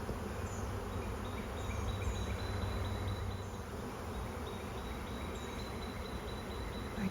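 A swarm of bees hums outdoors near pine trees, a faint, continuous drone of many wings with individual bees buzzing past now and then and no voices.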